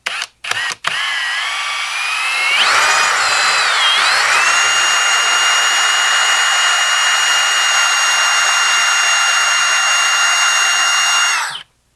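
A power drill whines steadily at high pitch as it bites into metal on a Pioneer SX-1280 receiver power supply, close and loud, after a couple of brief knocks at the start.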